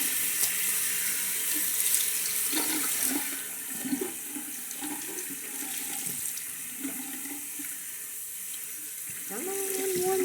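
Warm water runs steadily from a tap into a sink for about ten seconds, a continuous splashing rush with small clinks of handling partway through and a brief faint voice.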